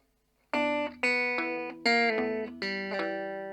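Rockabilly guitar plays a solo lick over bass: a few twangy sustained notes and double stops ring out one after another after a brief silence, clean and close.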